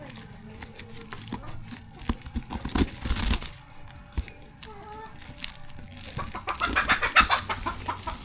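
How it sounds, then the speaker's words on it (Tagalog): Two turkeys clucking and calling at close range over a noisy outdoor background, with a burst of louder flapping or rustling partway through as they are released. "Pakawalan na natin yung pabo, ang dalawa."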